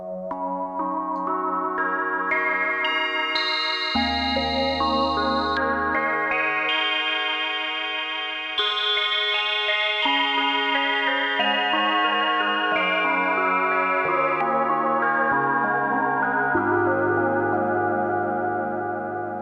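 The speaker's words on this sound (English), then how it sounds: "That sounds pretty good with a little reverb." Korg Polysix analog synthesizer playing a preset through reverb, sustained layered chords shifting in pitch with a swirling chorus-like texture, loud and continuous with no talk.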